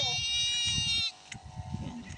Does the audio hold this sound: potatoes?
no